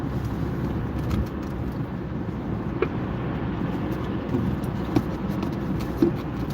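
A car cruising with smooth, gentle acceleration, heard from inside as a steady low road-and-engine rumble with a few faint clicks and no talking.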